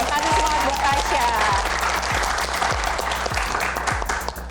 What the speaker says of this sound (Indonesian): Tepuk tangan Tepuk dulu tangan biar dong.